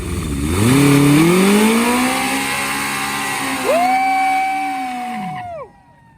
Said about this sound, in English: Wherever you feel comfortable doing a burnout in.